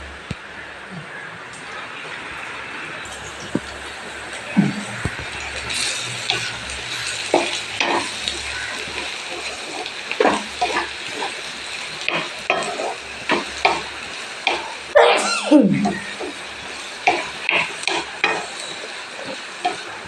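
Food cooks in oil in a covered pan, a steady sizzle running throughout with repeated clatters and scrapes of stirring and handling, plus occasional faint voices in the background.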